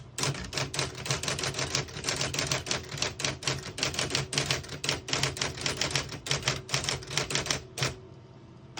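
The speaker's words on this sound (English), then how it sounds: "So what I'm going to do on this next line is just type a sentence in red, switch from black to red." A 1974 Olympia Report Electric portable typewriter types a line in red ink, with quick, steady keystrokes close up for about eight seconds before they stop, and no talking.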